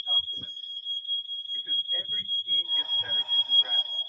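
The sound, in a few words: smoke alarm going off in house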